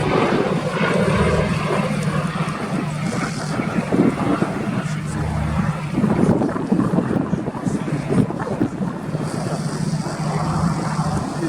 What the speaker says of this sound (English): Pretty long flight for the Swordfish today, operating from its base at Yeovilton in Somerset.